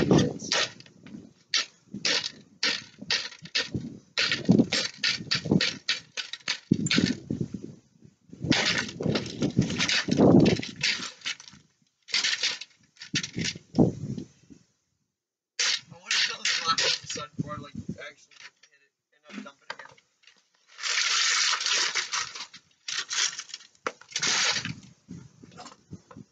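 A printer is smashed apart, with repeated hard impacts, cracking plastic and clattering debris in irregular bursts separated by short pauses, loud and close throughout.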